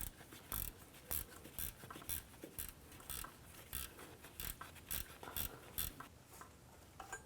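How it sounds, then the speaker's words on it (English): A 12mm ratchet wrench turning out the adjuster bolt on a Nissan Maxima power steering pump: faint, evenly paced clicking of the ratchet pawl, repeating in steady strokes throughout. "Now take this bolt out where the adjuster is. Use that 12mm ratchet wrench."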